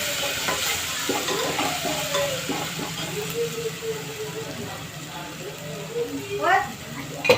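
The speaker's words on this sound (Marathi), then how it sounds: "आपण हिरवी मिरची ते बारीक केले होतं ते त्याच्यामध्ये सोडून द्यायचं व्यवस्थित परतून घ्यायचं" Chopped green chillies are stirred into hot oil with curry leaves for a Maharashtrian urad dal amti, with a steady close sizzle and spatula scrapes throughout and a voice murmuring in the background.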